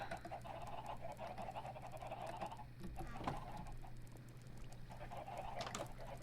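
Chickens in the Minecraft video game cluck faintly over a steady low hum, with soft bird-like calls scattered through the game sound and no speech.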